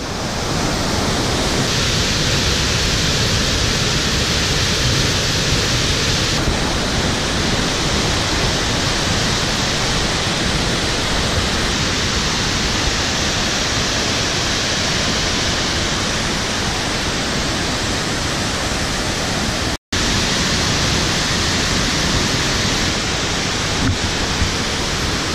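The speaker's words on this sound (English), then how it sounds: "Two waterfalls, one name!" Panther Creek Falls roars loudly and continuously, a dense wall of rushing, crashing water heard close up with no other sounds.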